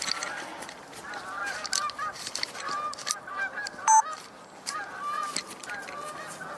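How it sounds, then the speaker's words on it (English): Geese honk repeatedly in a loose chorus, fairly distant and moderately faint, with overlapping calls throughout. "I hear geese coming in now"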